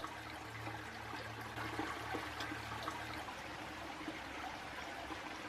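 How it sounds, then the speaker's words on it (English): A babbling mountain brook beside a Pisgah mountain bike trail, a steady rushing and trickling of water heard close and moderately loud, continuous throughout. "The majority of this trail runs along a babbling brook"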